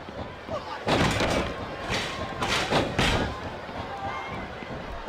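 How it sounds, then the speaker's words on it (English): Several heavy smashes burst out in SmackDown vs. Raw 2007 during a tornado tag tables match, a table breaking apart among loud crashes and thuds over crowd noise, with commentators talking. "The table practically exploded."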